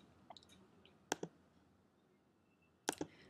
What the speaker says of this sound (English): now we are typing the number